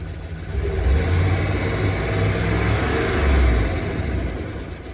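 A Hemi V8 engine with a random misfire runs steadily at idle, a rough low rumble with irregular stumbles and a slight swell midway, close and alone.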